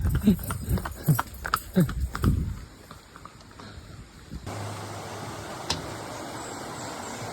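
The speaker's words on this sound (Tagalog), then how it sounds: "Kabayo." Several hollow clops of horse hooves in the first few seconds, then a steady outdoor wash of wind or water noise on a hiking trail near Marilag Falls, with a voice briefly nearby.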